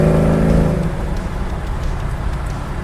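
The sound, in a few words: 1967 Camaro SS exhaust bark under acceleration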